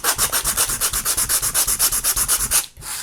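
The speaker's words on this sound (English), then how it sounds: "Any pieces that are sort of, you know, jagged, and you just want to kind of sand those down." Jagged pieces of wood being sanded down by hand, a steady back-and-forth rasp of about fifteen quick, even strokes, close and loud, with no voices, ending in a brief pause.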